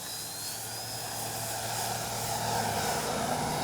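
A HobbyKing FlyBeam 2 radio-controlled plane takes off into a strong wind, its electric motor giving a steady, close whine over a broad rush of wind noise that holds for several seconds.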